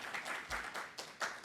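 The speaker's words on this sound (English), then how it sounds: "Please give her a big round of applause." Audience applause at the close of a Korea studies conference day, fairly faint and steady clapping heard from a distance, with uneven swells.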